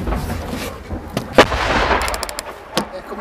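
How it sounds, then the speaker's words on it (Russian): Artillery fires during the war around Slavyansk. A few sharp, booming reports sound at a distance over a rustling outdoor background, each fading quickly. "походу артиллерия гасит, потому что нету да"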